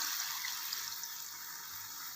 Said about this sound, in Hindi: इसमें अब हम ऐड करते हैं पानी